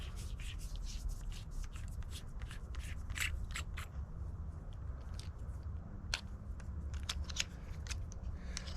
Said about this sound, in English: Just unscrew the light.